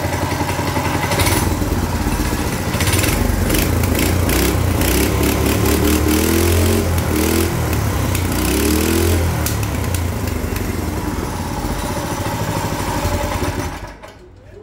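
A small stationary engine mounted on a homemade motorized bicycle runs steadily with a loud, buzzing, rapid-firing putter and slight rises in revs, close up throughout before cutting off abruptly at the end.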